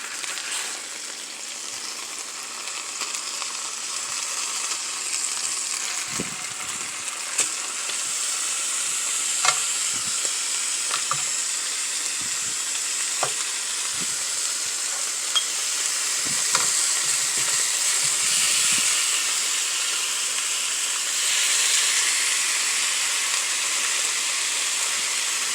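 Chicken leg quarters frying in a pan, a loud continuous crackling sizzle with bursts of spattering and a few clinks and scrapes as the pieces are turned, close up and steady throughout.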